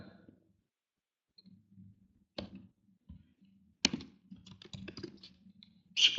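A handful of sharp, isolated clicks spaced irregularly over a quiet background, with a soft low hum in between.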